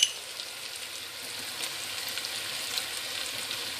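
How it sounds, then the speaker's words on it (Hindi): Tomatoes with salt fry in a pan on the stove, giving a steady, moderate sizzle with soft crackles and no talking. "2 टमाटर लिए थे मैंने और अभी इसको अच्छे से भूनेंगे"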